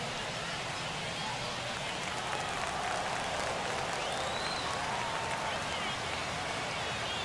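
A stadium crowd roars in the baseball video game MLB The Show, a dense, steady wash of cheering noise that fills the whole stretch without letup.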